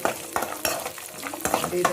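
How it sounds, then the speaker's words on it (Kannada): Chopped sapota pieces fry in oil in a pan for a sapota kesari bath, giving a close, steady sizzle broken by repeated scraping stirs of a spoon. "ಎಣ್ಣೆಯಲ್ಲಿ ಫ್ರೈ ಮಾಡ್ಕೊತಿದ್ದೀನಿ"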